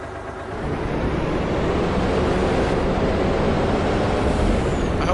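Loud, steady rumble of a truck engine in Farming Simulator 19, a broad roar that swells slightly early on and then holds constant throughout.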